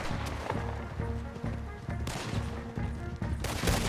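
Rapid bursts of gunfire in a Red Dead Redemption 2 shootout, repeated sharp shots and volleys in quick succession, loud and close, with no voices over the firing.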